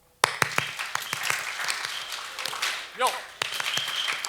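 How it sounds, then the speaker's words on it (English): Crowd at a Japanese New Year's celebration performing a tejime ceremonial clap: a leader's shout, then sharp unison claps in a three-three-three-one rhythm with a brief pause, under a festive hall murmur and voices. "I'd like to lead the 3-clap tejime"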